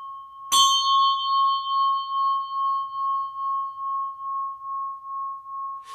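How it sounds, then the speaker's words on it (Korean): A church bell struck once for Sunday worship gives a loud clang that settles into a long, steady ringing hum with a slow pulsing beat, sustained for several seconds with no voices. "그래서 이 종을 치는데"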